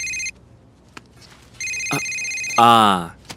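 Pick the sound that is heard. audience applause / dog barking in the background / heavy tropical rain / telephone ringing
telephone ringing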